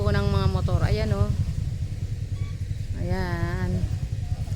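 Motorcycles idle and rev nearby in a parking area, a steady low engine rumble running throughout beneath a voice speaking in short bursts.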